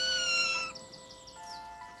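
A six-week-old kitten cries for its mother in a barnyard, giving a high, drawn-out meow followed by a few softer, shorter mews, close and clear against faint background hiss.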